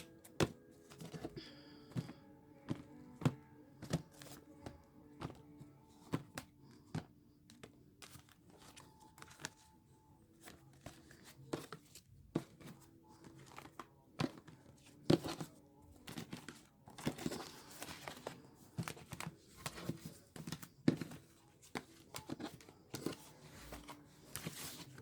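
Tarot cards being cut and handled during a weekly love reading: dense runs of soft riffling, tapping and crinkly shuffling clicks, close and moderately quiet, continuing steadily throughout with no speech.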